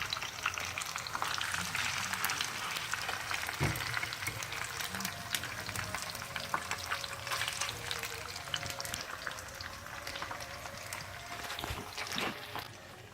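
Fish pieces frying in a hot pan for a peppered fish dish, giving a steady close sizzle and crackle, with a couple of brief clinks from the pan along the way.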